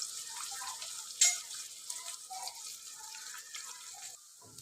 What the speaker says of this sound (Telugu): ఆనియన్స్ అయితే ఈ విధంగా ఫ్రై అయినాయి కదా, చూడండి.